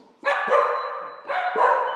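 Dogs bark in two loud, close bursts, each a cluster of sharp overlapping barks with a brief pause between them.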